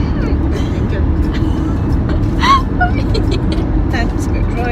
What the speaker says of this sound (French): Je vais effectuer un dépassement ici